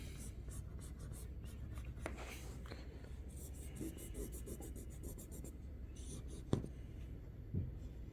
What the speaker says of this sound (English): let's just go ahead and just draw it out.